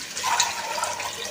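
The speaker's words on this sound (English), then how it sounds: "1 bowl of water because I have taken 1 bowl of rice." Water poured from a bowl into a pot of rice while cooking Moghlai biryani with country chicken and coconut milk, a steady close splashing, filling rush with no talk over it.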